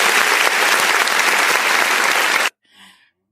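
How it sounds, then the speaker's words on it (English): A loud, dense burst of crowd applause played as a sound effect, steady for about two and a half seconds and then cutting off abruptly, followed by a brief faint tail. "hold on, let me give you applause."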